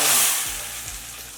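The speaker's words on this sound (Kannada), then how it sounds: "ಕುದಿತಾ ಇರೋ ರಸಮ್ಗೆ ಒಗ್ಗರಣೆ" A loud, hissing sizzle bursts out as hot curry-leaf tempering hits a pot of boiling rasam, then settles into a steady crackling fizz over a second or so.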